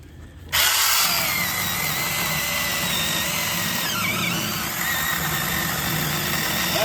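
A ZEEKSAW 8-inch mini chainsaw bites into a roughly 3.5-inch oak firewood log, its motor jumping from quiet to a loud, steady high-pitched whine that holds without bogging down, with a brief pitch dip midway through.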